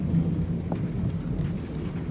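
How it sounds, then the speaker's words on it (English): Steady rain falls outdoors while a small engine is being worked on, a continuous low, rumbling wash with no talk and a faint distant thunder-like roll underneath. "It is raining outside."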